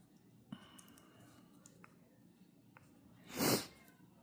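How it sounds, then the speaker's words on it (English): A cat meows once, brief and fairly faint, after a few soft clicks and small household noises in a quiet room while crochet work goes on, with no speech. "My son's cat is meowing."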